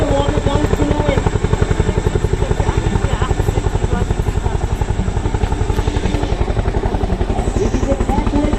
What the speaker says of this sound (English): This is a backward takeoff of Chinook helicopter.